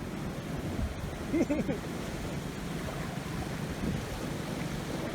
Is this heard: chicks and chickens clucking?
no